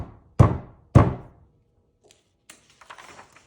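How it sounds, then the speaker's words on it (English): Two hard, heavy knocks on a door, loud and close, followed by fainter scattered taps and rustles; no voices. "Kate knocked on the door as hard as she could."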